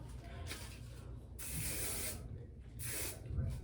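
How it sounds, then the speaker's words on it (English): Aerosol hairspray misted onto long wavy hair in short repeated hissing bursts, close and fairly loud, with brief pauses between sprays. "I'm just gonna put some hairspray in it to hold it and then not touch it"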